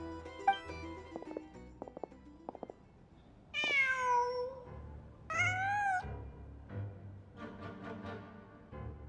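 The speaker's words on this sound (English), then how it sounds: "Just a cat." A cat in Genshin Impact meows twice, drawn-out clear meows standing out against quiet game ambience, preceded by soft clicks and followed by a faint rising chirp.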